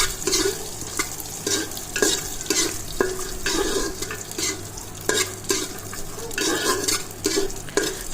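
Cashews and raisins fry in a pan, with a steady sizzle under rhythmic spatula scrapes and taps against the metal, close and clear.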